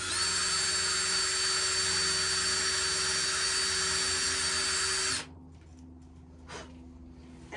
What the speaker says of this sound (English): So I just used a little drill here and drilled a hole in the top.